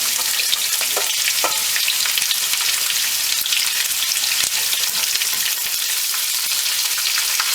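Onions and curry leaves crackle and sizzle loudly in hot oil with mustard seeds for a Malabar coast curry, a dense continuous frying hiss with a few sharp pops early on.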